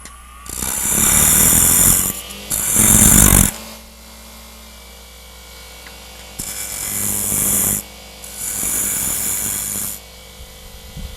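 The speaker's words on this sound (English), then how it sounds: "I'll just use a bowl gouge and and I'm going to make it fit this chuck" Bowl gouge cutting a wooden staved box blank spinning on a lathe, shaping it to fit a chuck: loud, rough scraping bursts of a few seconds each, separated by quieter pauses with the lathe running.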